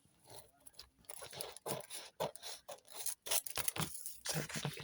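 Scissors snip and trim along the edge of magazine paper for collage, a run of quiet, close crisp cuts and rustles in uneven bursts, with no voices.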